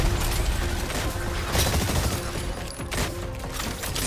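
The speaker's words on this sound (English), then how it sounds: "Deadeye strikes with gunfire and grenades." Rapid gunfire and explosive grenade bursts from the Deadeye exosuit in the Exoprimal video game, a loud, dense fusillade of shots running continuously without pause, with booming impacts mixed in.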